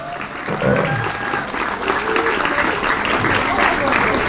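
A gathering at an Islamic boarding school applauds during a cleric's address, a steady wash of many hands clapping together with a few voices and a faint tonal hum running underneath throughout.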